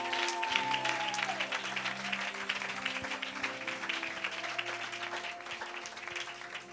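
A church congregation clapping and cheering for God, a dense, steady wash of applause filling the space, with a faint sustained tone running underneath.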